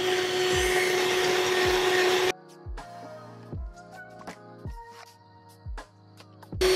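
An electric mixer whirs loudly while beating cake batter until thick for bento cake, a steady high motor drone for about two seconds, then stops, leaving a few soft knocks and clatters.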